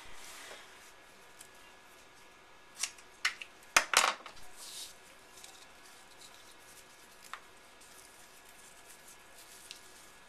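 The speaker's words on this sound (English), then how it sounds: "Get my scissors." Scissors snip through ribbon on a paper card craft, giving a few quick close cuts with a small cluster of crisp clicks in the middle, over low room noise.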